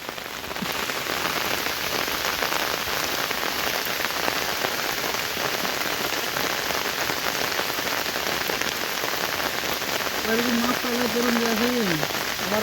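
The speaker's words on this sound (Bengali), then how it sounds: "আর বৃষ্টি থামার কোনো কথাই নাই, মুষলধারে বৃষ্টি।" Heavy monsoon downpour in a Bangladeshi village falls in a loud, continuous hiss, unbroken throughout, with a brief wavering tone near the end.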